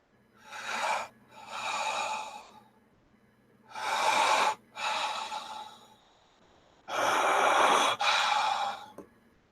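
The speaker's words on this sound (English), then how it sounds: "you see the body bag inhaling and exhaling as if Carter's body begins breathing inside the bag" Slow breathing inside a body bag in a tabletop horror RPG scene: three long breath cycles, each a drawn inhale and exhale, loud and close over a faint low hum.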